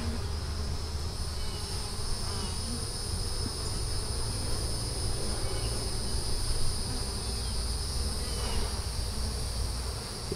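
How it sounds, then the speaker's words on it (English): Insects buzz steadily near a beehive during a hive inspection, a continuous close drone with high whining tones layered over low rumbling, no voices. "We got a little bee right here that dipped a little far into their plant."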